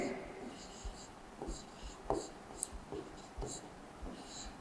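Chalk or marker writing Hindi letters on a classroom board, a series of short scratchy strokes with gaps between them, close and fairly quiet, with faint background murmur.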